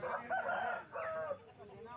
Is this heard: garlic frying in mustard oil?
no